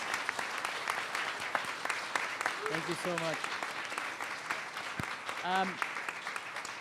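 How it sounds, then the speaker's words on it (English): An audience at a talk gives a round of applause, steady and moderately loud clapping throughout, with a person speaking briefly over it. "So let's give another round of applause to Patricia for doing this."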